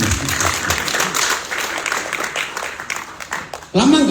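Church congregation applauding a preacher, a dense wash of clapping lasting several seconds and tapering slightly, with a voice breaking in loudly at the end.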